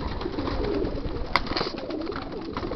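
Racing pigeons in a loft of about 240 yearlings coo softly and repeatedly over a low, busy background murmur, with a single sharp click midway and no talking.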